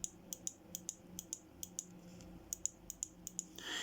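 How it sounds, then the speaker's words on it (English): Sharp mechanical clicks from a Citroen or Peugeot tailgate switch repeat in a quick, slightly uneven series, close and clear, with a brief pause midway before the clicking resumes. "If you don't hear a clicking sound when you"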